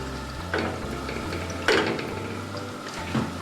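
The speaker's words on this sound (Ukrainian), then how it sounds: "І ось так смажемо наше м'ясо все, дивіться, смажиться наше м'яско." Chicken fillet cutlets fry in a pan with a steady soft sizzle throughout, broken by a few louder scraping or stirring clatters.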